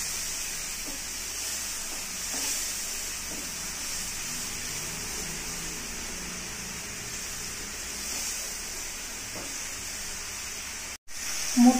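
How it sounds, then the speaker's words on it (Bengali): Spice masala for a Bengali eggplant curry (begun jhal) fries in hot oil with a steady, even hiss and crackle that runs unbroken, fairly loud, with no talking over it. "সেটা আমি দিয়ে দিচ্ছি এই তেলের মধ্যে। এটা একটু কষাতে হবে"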